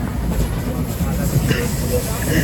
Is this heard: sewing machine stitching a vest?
no